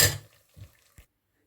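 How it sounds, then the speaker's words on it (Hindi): Semolina halwa (sooji) scraped and spooned from a cooking pan into a bowl in a home kitchen, a loud metallic scrape at first, then two brief softer clinks and knocks before silence. "और इसको एक बर्तन में निकाल लेती हूँ।"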